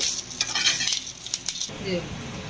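Mature curry leaves fry in a little oil until brown and crispy for curry leaf powder, giving a steady close hiss and crackle with a few brief stirring scrapes and clinks, no voices.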